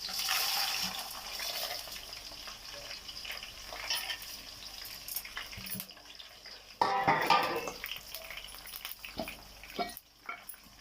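Dried red chilies, peanuts, chana dal, curry leaves and mustard seeds hit hot oil in a pan, crackling and sizzling steadily with a sharp burst of spattering midway, then settling into a fainter fry.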